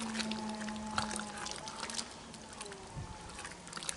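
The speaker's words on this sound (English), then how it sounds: "Here's our hatch chili puree, about milkshake consistency. Going right in." Hatch chili puree with a thick, milkshake-like consistency is poured into a Dutch oven of New Mexican posole, a soft continuous pour over steady background noise.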